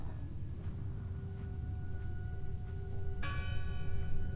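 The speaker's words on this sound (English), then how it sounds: "The bell's still ringing." A church bell rings out in the game Draugen, its steady tonal hum sustained over a low rumbling ambience, growing louder and brighter with a fresh strike near the end.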